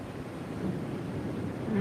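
Wind buffets a microphone outdoors in a steady, broadband low rumble that swells slightly toward the end, with no voices heard.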